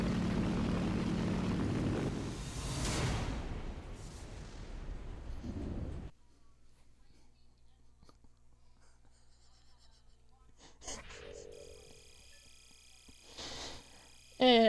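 A propeller aircraft engine in the War Thunder combat game drones loudly as a broad, steady roar for several seconds, then drops away to near quiet, with brief bursts of noise returning later.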